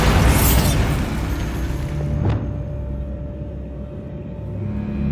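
A Bombarda spell explosion in Hogwarts Legacy hits as a loud, sharp blast, followed by a brief second pop and a fading rumble under low ambient noise.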